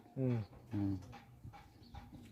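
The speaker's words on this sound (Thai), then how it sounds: "พอได้เห่าได้หอน" A dog barks and howls in two strong, harmonic bursts near the start, followed by quieter intermittent sounds, with people talking around it.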